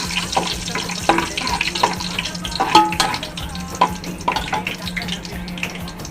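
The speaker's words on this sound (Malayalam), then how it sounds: "ഇനി അണ്ടിപ്പരിപ്പ് വറക്കാണ്" Cashew nuts frying in oil in a pan for biryani, with a steady sizzle broken by clinks and scrapes of stirring, close and fairly loud, no talking.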